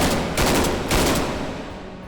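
Light machine gun firing fast full auto in the VR shooter H3VR, two dense rapid bursts of gunfire separated by a brief gap, loud and close.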